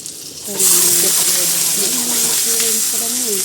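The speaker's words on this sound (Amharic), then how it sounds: "እዚህ ጋር ማለት ነው ቅቤ እያቀለጥኩ ነው።" Butter melting and sizzling in a pan while salmon is cooked with cream, a steady frying hiss that stays loud under a voice talking throughout.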